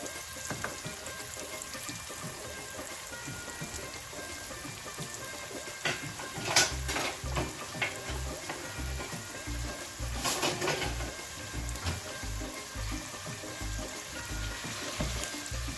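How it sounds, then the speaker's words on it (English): Paneer shallow frying in oil, making a dense, constant sizzle like heavy rain, with occasional sharper spits and a faint low rhythmic thumping beneath, with no talking. "So we put our paneer slowly into the oil and shallow fry it."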